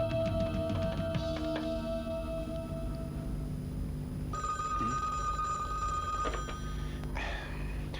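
A telephone bell rings in repeated bursts in an indoor scene of a 1980s action film, set against steady background music and room noise.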